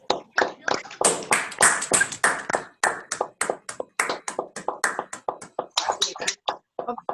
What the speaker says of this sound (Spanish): Vamos a prender los micrófonos y a darle un aplauso a Marcelo.